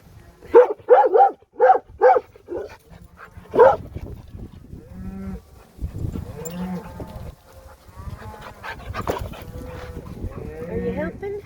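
Cows on a farm low and moo in a series of loud, close calls, with several quick bursts early on and then longer, rougher bellows, plus some mixed animal noise.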